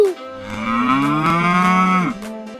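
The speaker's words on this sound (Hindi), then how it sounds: "काउस की आवाज कहलाती है मू।" A cow lets out one long, low, drawn-out moo of about two seconds, loud and close, ending with a short falling tail.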